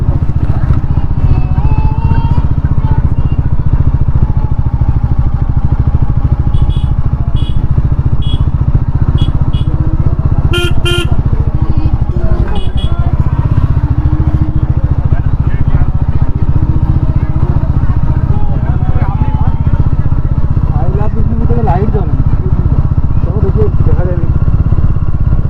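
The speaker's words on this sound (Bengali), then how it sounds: "Bike R bike." Many motorcycles crowd the road near a terracotta fair in Bishnupur, their engines a constant loud rumble with a few short honks and people talking over the din.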